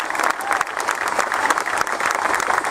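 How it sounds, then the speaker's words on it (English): Dense, steady applause from a large crowd at a civic reception honouring a world champion boxer, a continuous roar of many hands clapping throughout. "And they deserve your applause."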